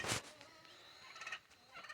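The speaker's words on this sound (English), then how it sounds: "And I noticed the turkey hen was riled up." An agitated turkey hen gobbling near a chicken coop, a fairly faint, rapid warbling call with a sharp burst at the start and further gobbles toward the end.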